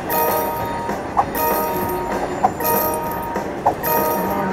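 A slot machine's Grand Train bonus plays a rail sound effect: a steady loud rumble of a moving train with clicking wheel beats recurring about every second, heard alone.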